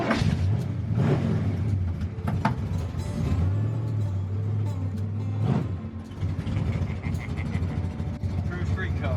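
A V8-powered VW Beetle gasser drag car, built as a 50s-style drag racer, pulls away with a deep rumbling engine whose pitch climbs, holds, then surges again, with people talking over it.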